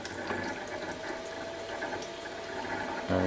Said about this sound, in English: if I turn the ball valve on, the system should automatically kick in and start flushing